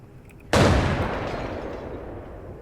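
A grenade explodes in the video game Arena Breakout: Infinite: one sudden, loud, close blast that rolls into a long, fading rumble over about two seconds.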